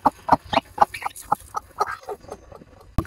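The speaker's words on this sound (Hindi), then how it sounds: "ये बैठी हुई हमारी कुड़क मुर्गी" Broody hen clucking in short, sharp bursts, a rapid series of close, agitated clucks and squawks with brief pauses between them.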